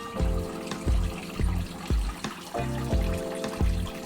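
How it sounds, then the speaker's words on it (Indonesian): An aquarium pump and filter rated at 800 liters per hour, part of a DIY canister setup for a beginner aquascape, hums steadily with a gurgling water surge roughly every half second, close by with no talking. "Pertama saya cek dulu ini sistem pompa dan filter airnya."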